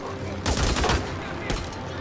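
Gunshots from the PS4 zombie survival game Days Gone, two short bursts of fire close together, loud against a low ambient game background.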